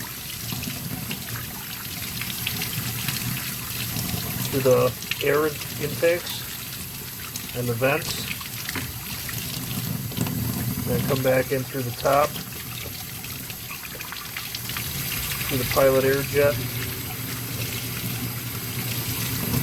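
Water is being back-flushed through the passages of a Yamaha XJ650 Turbo carburetor, including the pilot air screw and needle-and-seat ports. Close, steady pouring and splashing runs throughout, with someone talking over it.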